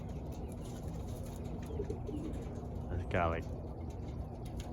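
Pigeons in a settling cage give one soft, low coo over a steady outdoor hiss, and a person speaks briefly nearby.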